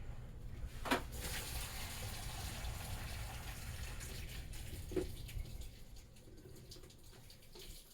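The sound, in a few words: water draining from a Tupperware container into a sink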